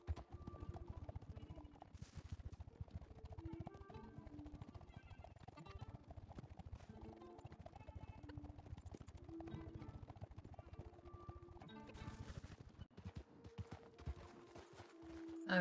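Horse hooves clip-clopping at a steady ride in a video game set on the way to Mexico, a rapid, even stream of hoofbeats throughout, quiet and close, with brief louder bursts near the end.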